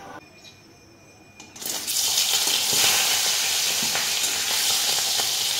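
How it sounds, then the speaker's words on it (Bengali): Taro pieces with tempering spices hit hot oil and burst into a loud, steady sizzle. A brief quiet moment comes before the frying starts and carries on to the end. "এখানে ফোড়ন দিয়ে আগে গাঠি কচুটা ভাজা ভাজা হতে দিলাম।"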